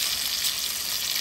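Eggplant slices fry in a pan with a steady, close, even sizzle of hot oil that carries on without a break, with no voices heard.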